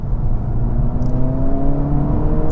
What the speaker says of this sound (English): you will get some pops and some overrun fun from the exhaust as well